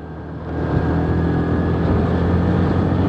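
A motorcycle rides up a hill road in the Margalla Hills on Pisawa Road. Its engine rises to a steady, close, droning hum that lasts for the rest of the clip, with no speech.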